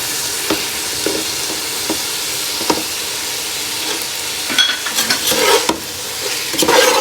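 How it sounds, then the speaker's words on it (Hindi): Boiled macaroni being stirred into a frying chicken pasta masala, with a steady sizzle under repeated scraping strokes of a spoon against the pan, close and fairly loud, growing busier toward the end. "थोड़ी थोड़ी डाल के फिर साथ साथ मिक्स करते रहेंगे"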